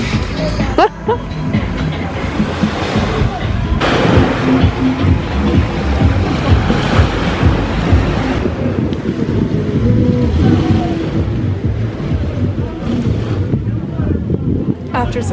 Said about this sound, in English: The party boat has arrived.